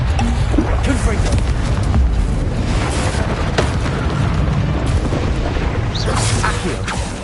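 A Confringo fire spell exploding in Hogwarts Legacy, a heavy rumbling boom with crackling bursts that fills the scene, with game sounds layered over it and dense, continuous noise throughout.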